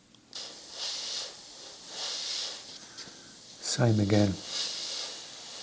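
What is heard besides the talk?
airbrush spraying paint onto jeans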